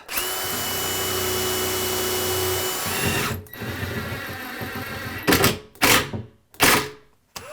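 A power drill pre-drills screw holes into a kitchen cabinet filler strip at a blind corner. It whirs loud and steady for about three seconds, then stops, followed by several short, sharp bursts.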